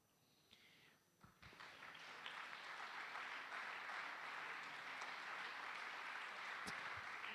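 Lecture audience at a philosophy festival breaking into applause, starting with a few scattered claps and swelling into steady, dense clapping that fills the room and holds to the end.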